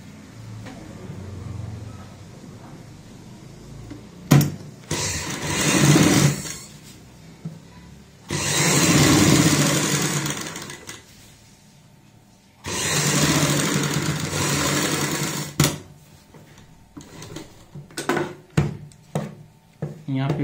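A sewing machine stitches a kurti neckline in two long runs, each lasting about three seconds, separated by quieter handling noises and short taps.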